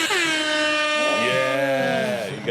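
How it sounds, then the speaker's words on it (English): Air horns blare in a podcast studio, a long loud wavering honk with bending pitch that fills the whole moment. "Yeah, you got air horns."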